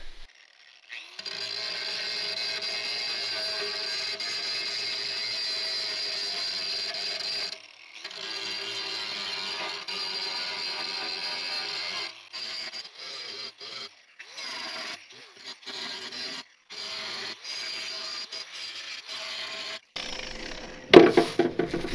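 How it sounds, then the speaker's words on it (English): An angle grinder runs off a tiny portable power unit with a steady, close whine and hum. It dips briefly a few times and ends in a loud clatter. "I'm gonna try to run this grinder off of this tiny little unit"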